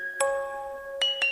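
A phone ringing with short bright electronic chime bursts, one early and two close together near the end, each sustained as a ringing tone; no speech.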